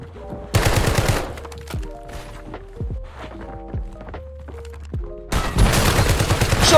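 Shotgun fire in Call of Duty Warzone comes as loud, sharp blasts in bursts near the start and end, with footsteps and thuds in the quieter middle stretch.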